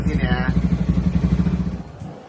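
Yamaha XMax 300 scooter with a 300cc bore-up engine running on a dyno, a loud, rapid, pulsing exhaust throb that fades as it slows at the end.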